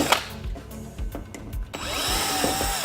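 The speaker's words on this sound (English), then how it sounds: "We're gonna need our drill now." A power drill whirs in short bursts and then runs steadily, close and fairly loud, while a broken wall-mounted unit is removed indoors.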